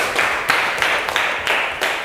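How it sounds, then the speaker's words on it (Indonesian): A classroom group applauds group 1, a dense patter of hand claps that rises in several swelling waves over about two seconds, fairly close and loud. "tepuk tangan buat kelompok 1"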